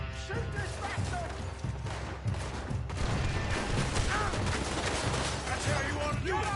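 Gunfire from the video game Red Dead Redemption II: a dense, continuous burst of shots and impacts filling the whole stretch, loud and close, with voices shouting over the battle.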